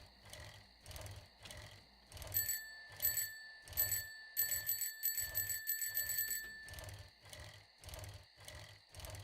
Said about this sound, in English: ringing my little bell